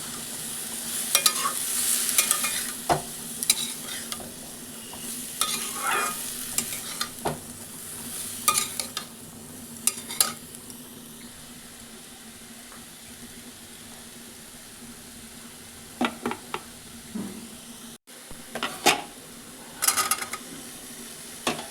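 Grated ginger and two green chillies frying in a pan, a continuous sizzle with bursts of spatula scraping and stirring at irregular intervals, quieter stretches between.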